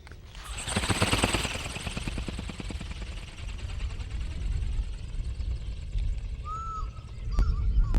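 Hanvon GoGoBird Eagle toy aircraft flying, a steady buzzing motor drone with a rising whine near the start that holds through the whole stretch, fairly loud and close, with faint background noises near the end.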